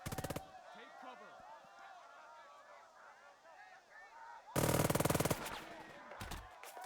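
Bursts of rapid small-arms and machine-gun fire from the WWII tactical game Burden of Command, loud clattering volleys at the start and again near the end, with quieter battlefield noise between.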